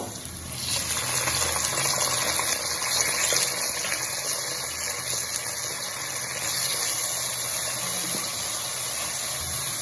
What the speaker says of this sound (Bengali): সামান্য জল অ্যাড করব।